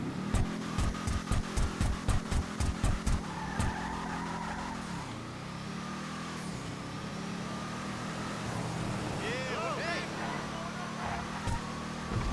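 Engine of an Impaler LX Cruiser car in GTA Online, starting with a rapid run of revving pulses, then a sustained engine drone with tire squeals, loud and close.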